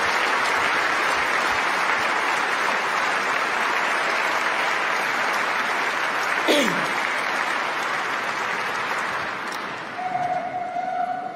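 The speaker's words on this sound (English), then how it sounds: "Enormous applause after the first part of this speech about Denis Mukwege." Enormous sustained applause from a large audience at the 2018 Nobel Peace Prize ceremony, a steady dense wash of clapping that holds throughout with a slight dip near the end.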